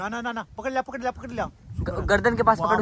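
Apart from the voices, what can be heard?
No everyday noise stands out behind the speech.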